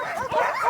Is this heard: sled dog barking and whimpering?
yes